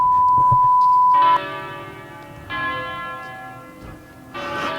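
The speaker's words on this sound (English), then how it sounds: "Church bells?" Church bells ring out in a town, several strong resonant strikes spaced a second or more apart, each leaving a long humming decay, preceded by a steady electronic tone.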